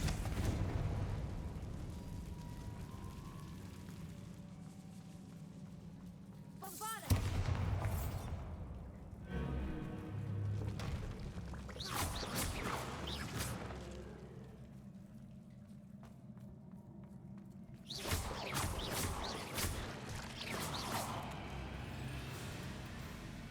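Confringo blasting spell in Hogwarts Legacy: a sharp explosive burst followed by rumbling debris, then further loud bursts and crackling impacts in a game level with no talking.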